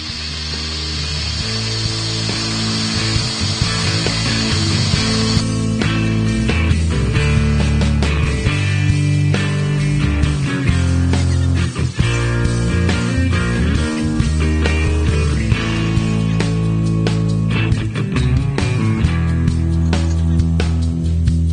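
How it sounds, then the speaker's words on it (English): Wood lathe turning an ornamental walnut box, a loud continuous mechanical drone with tool chatter and scraping cuts throughout, the bright whine easing after the first few seconds. "So I need to get the lathe running fairly quickly."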